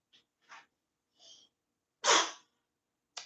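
Several sneezes in a row, the first few small and soft, then one loud, forceful sneeze followed by a brief final one; no talking.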